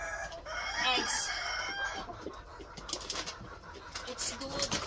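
Chickens being fed cooked eggs and eggshells, clucking and chattering close by in a busy, irregular mix with some higher calls, while a person talks over them.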